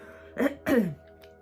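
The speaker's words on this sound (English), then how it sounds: "I feel like I keep needing clearing my throat of expression." Two quick throat clears close to the microphone, one short and one longer and raspier, against quiet background hum.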